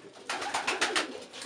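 Sport pigeons cooing close by, a run of about five soft, rhythmic coos in quick succession, moderately loud with no talk.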